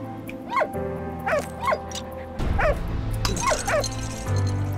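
A small dog yelps and barks repeatedly in short bursts over a steady synthetic background hum and game-like music, in the video game Valiant Hearts: The Great War.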